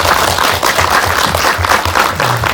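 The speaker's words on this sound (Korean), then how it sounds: "이럴 때 박수 한번 쳐주셔야 됩니다" A theatre audience applauds warmly at a Korean independent documentary screening and Q&A at Indiespace, a dense, steady wash of many hands clapping that fills the whole stretch without pause.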